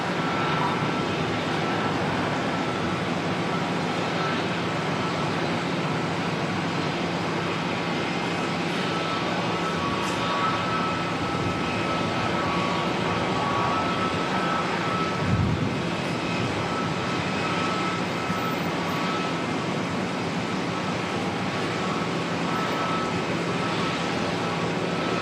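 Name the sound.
aircraft moving at Auckland Airport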